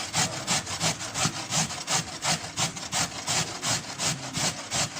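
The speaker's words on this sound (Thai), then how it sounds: "แล้วเราก็นำมาขูดกันนะคะ ที่ขูดแบบไหนก็ได้ที่ขูดมะละกอก็ขูดได้นะคะ" Cassava root being grated by hand on a grater, a steady rhythmic rasping of about ten to twelve strokes in a row, close and loud with no talk over it.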